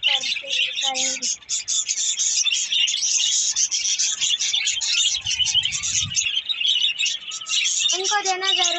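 Java sparrows in a cage chirp and tweet continuously while nesting, making bright, busy, overlapping calls close by, with a soft low rustle partway through.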